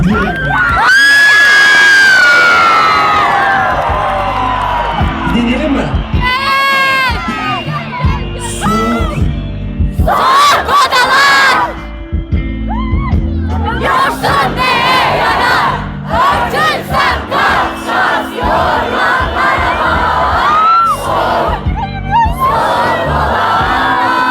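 A large outdoor concert crowd in Malatya roars, cheers and shouts loudly, with whoops and yells swelling and dipping over several waves and a voice calling out through the noise.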